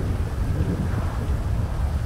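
Strong thunder outside rolls as a continuous low, heavy rumble. It is dense and steady for about two seconds with no clear breaks, and no voices are heard.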